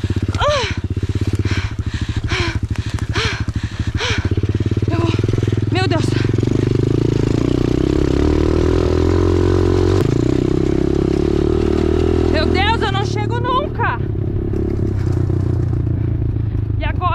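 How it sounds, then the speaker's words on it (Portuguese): A motorcycle rides through a forest, its engine droning steadily while branches clatter and scrape against it. Voices talk and exclaim over the engine noise throughout. "Vamos, motinha do Johnny"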